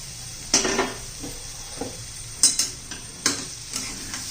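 Peas and potatoes are stirred in a pan over a soft sizzle, with a few sharp metallic scrapes and clinks of a spoon spaced about a second apart, close and with no voices.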